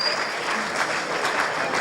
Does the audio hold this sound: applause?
yes